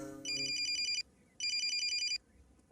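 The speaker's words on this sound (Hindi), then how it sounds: "भाई उस खजुए बैगन सिप्पी का फोन आ रहा है।" An electronic telephone ringtone trills in two loud bursts with a short pause between them, clear and close with no talk over it.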